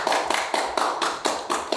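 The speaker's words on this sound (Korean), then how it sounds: "우리 서로에게 환영의 박수를 보내드리면서" Hands clap in a steady, even rhythm of about four beats per second, crisp and fairly close, as a forum audience welcomes one another, with no talking underneath.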